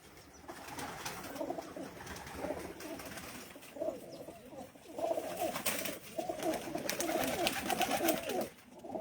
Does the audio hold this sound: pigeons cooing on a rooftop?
yes